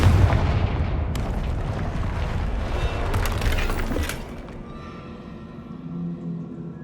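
Fiery Confringo spell blasts in Hogwarts Legacy, a run of loud booming bursts and crackling impacts over a dense game soundscape, fading to quieter ambience near the end.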